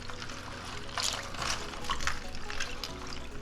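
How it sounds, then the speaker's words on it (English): Water runs over a freshly dug Oregon razor clam as sand is rinsed off, a steady close splashing trickle. "I'm kind of just rinsing it off, trying to get any excess sand off of the clam."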